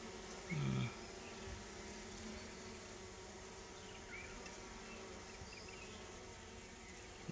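Pale bees buzzing around an opened hive during a swarm and queen release, a steady low insect drone throughout with one louder close pass of a single bee near the start.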